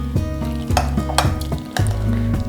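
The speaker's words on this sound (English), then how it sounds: "a few chopped apricots, and then mix it all together" Spoon stirring overnight oats with coconut and chopped apricots in a bowl, a close, loud run of scraping and clinking strokes in an uneven rhythm, with no talking.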